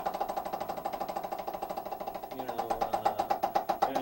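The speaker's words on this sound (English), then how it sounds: "I generally just start with single stroke roll." Single stroke roll on a drum practiced with Moeller technique, an even, rapid stream of alternating strokes at steady volume that grows slightly louder and fuller toward the end.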